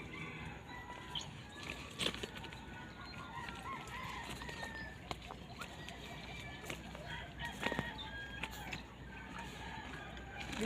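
Distant rooster-like crowing and clucking drift through a steady outdoor hiss on a bird hunt, faint and intermittent across the stretch, with scattered sharp chirps and little talk.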